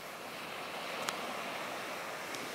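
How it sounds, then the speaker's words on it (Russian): Steady broadband wash of waves on Tangalle beach at dawn in Sri Lanka, a constant moderate surf roar with light wind, no voices, and a couple of faint brief clicks. "Пляж Тангаля на рассвете."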